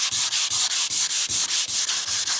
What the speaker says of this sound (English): going around, hand sanding it everywhere